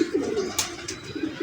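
Pigeons coo softly at close range in a couple of low, rolling calls, with a brief flutter or rustle partway through over a quiet background.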